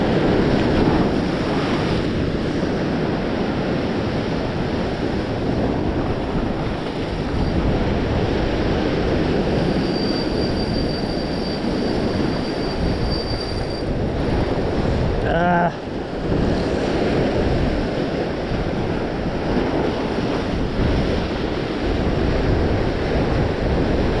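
Ocean waves surge continuously onto the rocks where someone is fishing on a beautiful morning, a loud, steady wash of surf with wind buffeting the microphone.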